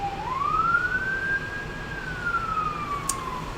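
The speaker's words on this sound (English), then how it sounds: "A lot more ambulances" An ambulance siren passing through a town makes one long, smooth wail that rises and then slowly falls over steady traffic rumble, fairly near and clear, with no talking.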